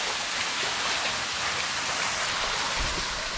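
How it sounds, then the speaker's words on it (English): The Hathai Kotor waterfall roars steadily and close by, a dense, continuous rush of falling water with no pauses. "So here is the waterfall."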